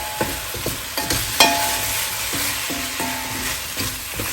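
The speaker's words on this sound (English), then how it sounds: "I'll just give that a quick stir" Nikujaga, a sweet Japanese beef stew, being stirred in a pot: a spoon scrapes and knocks in irregular strokes while a soft steady sizzle runs underneath, close and moderately loud.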